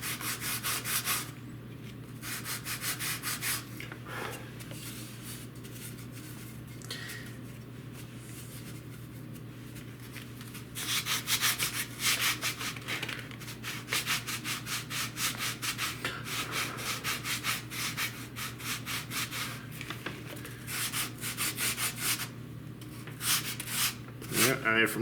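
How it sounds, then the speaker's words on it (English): Steady sanding of the wooden front edge of a model airplane's horizontal tail, worked across the grain, a continuous close rubbing rasp that runs the whole time with brief pauses and changes in stroke. "shaping the front of these can be a little bit tougher than the side, since at least you're working on an angle. But they do sand a lot quicker too"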